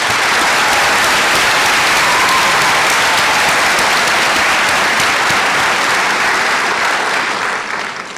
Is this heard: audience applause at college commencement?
yes